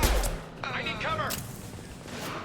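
Brief gunfire in the video game Mass Effect 2, a heavy opening shot followed by a whooshing, warbling weapon effect, close and fairly loud, with a voice shouting in the fight.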